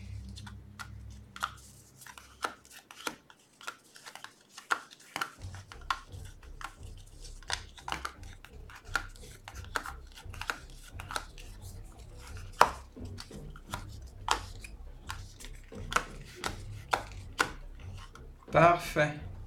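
Board game tiles clack and rattle as they are shuffled on a table, an irregular run of sharp close taps with a brief louder shuffle at the end.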